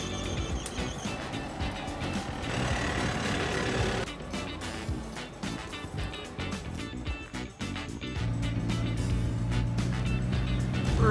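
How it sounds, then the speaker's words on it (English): An old truck hauling a heavy load labours up a hill in first gear, its engine droning loudly and continuously with a rough, rumbling strain. "First gear, old truck can barely make it up this hill with this bad boy on the back."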